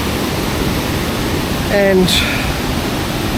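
Kuang Si waterfalls roar as a constant, dense rush of falling water, with a brief spoken word and a short tonal sound rising above it near the middle.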